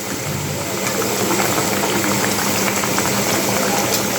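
Fish curry bubbling in a pot on a gas stove, a steady broadband simmer with continuous hissing and bubbling at even loudness throughout, no voices.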